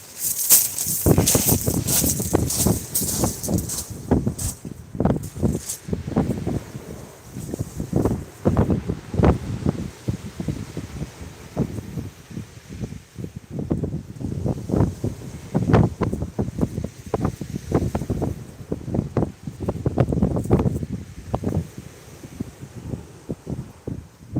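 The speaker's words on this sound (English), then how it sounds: "it's getting windy and cold" Gusty wind on a sea beach buffets the microphone in loud, irregular bursts, with rustling and rumbling throughout and no voices.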